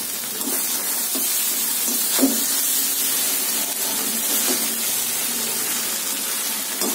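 Cooked rice tipped into a hot pan with cashews and raisins for a seasoned fried rice, giving a steady loud sizzle and hiss with a few soft clatters and stirring scrapes.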